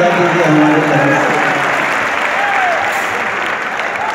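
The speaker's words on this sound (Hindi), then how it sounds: "जोरदार तालियां का बजा दीजिए हमारे तरफ से।" An audience at a Bhojpuri-language political event applauds steadily, a dense wash of clapping that carries on for several seconds and fades slightly toward the end.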